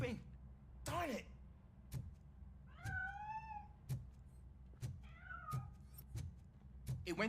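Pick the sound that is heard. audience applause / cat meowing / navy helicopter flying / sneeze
cat meowing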